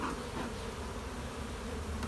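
Honey bees buzz steadily at an open hive during a spring inspection, a dense continuous drone close by with no talk over it.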